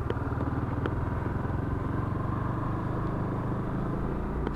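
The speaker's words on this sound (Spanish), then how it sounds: "Serenito el motor" A Honda CB250 Twister motorcycle idles nearby with a smooth, even rumble and a steady throb. Light mechanical clatter sits on top, and nobody speaks.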